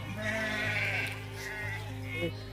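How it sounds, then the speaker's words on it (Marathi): Balumama's flock of sheep bleating together in a steady, overlapping chorus at close range, the calls rising and falling continuously with background murmur from people nearby. "दरवर्षीप्रमाणे ह्याही वर्षी बाळूमामाच्या मेंढ्या आलेल्या आहेत"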